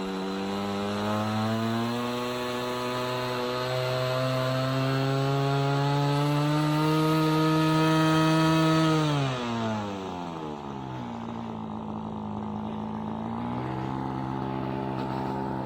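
A cold model airplane engine runs at an airfield with a loud, close, high-pitched buzzing drone. It holds steady, then rises slightly before dropping in pitch around the middle and settling into a lower, continuous whine.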